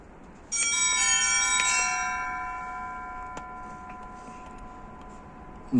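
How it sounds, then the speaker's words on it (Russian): A cathedral bell strikes and rings out with a long, shimmering tone that slowly fades, followed by a faint tick and another strike at the very end. "Не пугайте колоколами."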